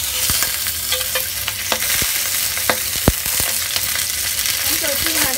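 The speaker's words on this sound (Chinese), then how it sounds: "咁烧热啲油咧，就摆条鱼落去煎啦。" A whole fish fries in hot oil in a pan, giving a loud, steady crackling sizzle broken by sharp ticks and spatters throughout, with no voices.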